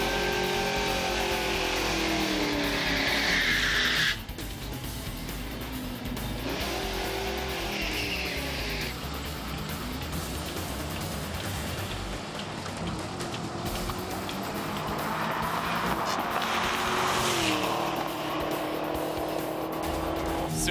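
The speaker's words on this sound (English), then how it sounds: "pulled second, it just started spinning the tires" A street car roars hard at a drag strip launch, its engine revving up through the gears while the tires spin. Strained, rising and falling engine tones carry over a harsh, noisy wash.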